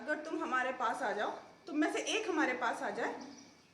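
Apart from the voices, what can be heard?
No everyday noise stands out behind the speech.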